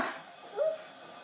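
A small child imitates a dog with one short, faint, whimpering yip, heard alone in a quiet room after a brief adult question.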